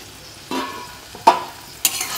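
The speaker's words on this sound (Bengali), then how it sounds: "বেগুনটা দিয়ে একটু নাড়িয়ে চাড়িয়ে 2 মিনিটের মতো ঢেকে দেব।" Eggplant frying in a pan is stirred in a few short, scraping bursts over a low background of sizzling oil.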